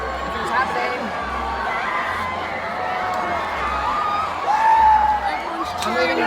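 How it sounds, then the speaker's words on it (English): A crowd in a theme park queue cheers and whoops, a dense roar of many voices with shouts rising near the end and nearby talk mixed in. "Everyone's cheering."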